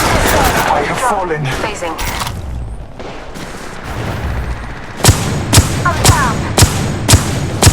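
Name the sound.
pistol gunfire in video game Apex Legends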